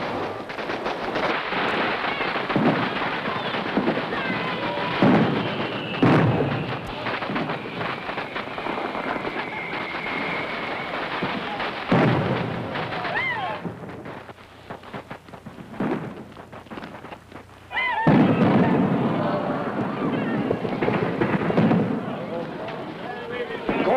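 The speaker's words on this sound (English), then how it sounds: "Hey, the fireworks are gonna start." Fireworks exploding in a western town, a series of booming blasts and crackles at irregular intervals, some loud and close, with a whistling rise and people talking over the noise.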